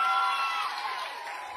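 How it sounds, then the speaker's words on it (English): A pageant audience applauds and cheers in a steady, dense wash of sound that holds for over a second, then eases slightly toward the end. "Give them a round of applause again"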